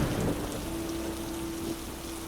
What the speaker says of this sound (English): let the sound of the rain guide you into the story